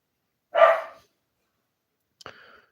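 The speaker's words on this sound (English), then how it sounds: "My dogs, they sound ferocious, but they're not. They're playing." Playing dogs let out one loud, close, rough bark, then after a pause a short sharp yip trailing into a thin whine, with silence between.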